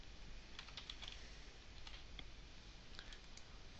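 Quiet keystrokes on a computer keyboard as a production name is typed in Stop Motion Pro software, a light irregular patter of clicks over a faint steady hiss.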